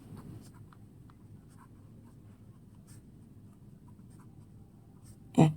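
Pen or pencil scratching out numbers by hand during a class 6 math lesson, a soft steady scritching that runs throughout at low level, ending in a sharper brief tap or scrape.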